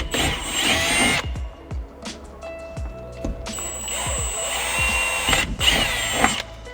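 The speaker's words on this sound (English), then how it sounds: "I'm using a 1/8 drill bit." A power drill with a 1/8 inch bit bores holes in a Kubota RTV X1140 dash during a winch install, running in several close, loud bursts separated by short pauses and handling clatter.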